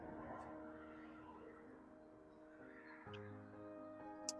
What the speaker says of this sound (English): There are quite a lot of birds around here.